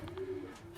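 A short, low pigeon coo in a loft, close and steady, with faint flutter and shuffling noise around it.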